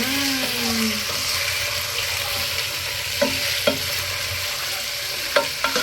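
Ginger, garlic and onion sauté in a pan with a steady frying sizzle, broken by a few sharp scrapes and clinks of a utensil stirring, close and alone.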